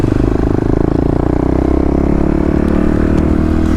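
A Kawasaki KLX351 motorcycle with a big bore kit runs at a steady idle close by. Its even, throbbing drone is loud and continuous, with no speech.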